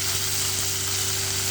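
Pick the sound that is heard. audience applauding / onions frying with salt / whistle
onions frying with salt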